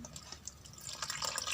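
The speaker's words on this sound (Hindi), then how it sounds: "अब इसमें थोड़ा थोड़ा पानी डालेंगे।" Lukewarm water poured little by little into salted flour for paratha dough, a steady liquid trickle and splash that grows slightly louder toward the end, heard alone.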